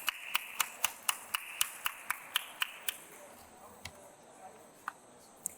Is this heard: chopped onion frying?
no